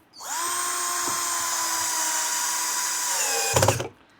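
A power screwdriver drives a screw back into a homemade three-way speaker box with woofer, mid-range and tweeter, a steady close whine of about three seconds, rising briefly at the end before stopping.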